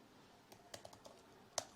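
Light computer keyboard typing while entering a named credential: a handful of soft, sparse keystroke clicks spread over under two seconds, with one sharper click near the end, quiet and close, no talking.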